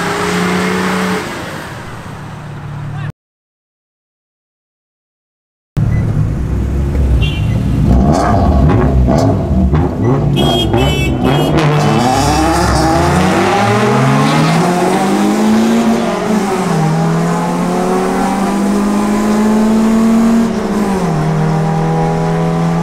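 Car engines rev hard and tires squeal through burnouts at a car meet, with loud rising and falling engine howls after a brief gap of silence and sharp screeching bursts over the roar.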